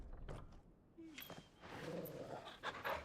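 A dog pants softly in Final Fantasy XVI, quick breathy huffs with a faint whimper and some creaking game sounds, quiet and fairly close.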